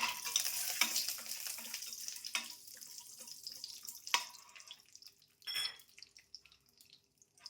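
Cashews frying in a kadai for paneer kaju butter masala, a soft sizzle with sharp clinks and scrapes of stirring, fading quieter toward the end.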